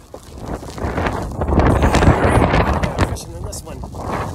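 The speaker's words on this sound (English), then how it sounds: "The wind's blowing." Strong wind buffets the microphone in rumbling gusts that swell and ease, with faint voices now and then underneath.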